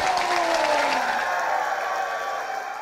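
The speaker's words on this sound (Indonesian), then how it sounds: "Tepuk tangan sekali lagi." Audience at a campus talk-show event clapping together, a broad wash of applause with some tonal hum beneath it that tapers slightly toward the end.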